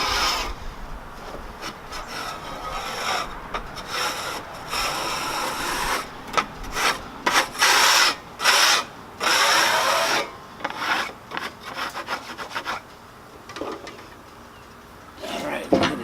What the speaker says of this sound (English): If you don't scrape the sawdust off, as they dry, the sawdust turns brown and it creates a stain on your wood.